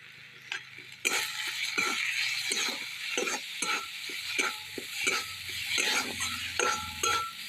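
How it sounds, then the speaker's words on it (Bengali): Green peas fry slowly in a pan, a continuous sizzle under repeated rhythmic scraping and stirring strokes of a utensil against the metal, with light clinks. "এভাবে ধীরে ধীরে ভেজে নিতে হবে।"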